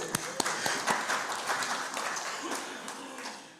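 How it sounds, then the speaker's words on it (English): A congregation at a Pride Sunday church service claps, a moderate patter of hands from the pews that starts with a few sharp claps, swells briefly, then thins out, with faint voices mixed in. "come on, little clap"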